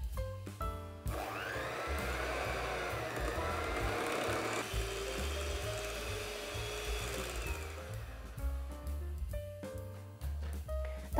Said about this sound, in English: I'm going to mix this now for about 1 minute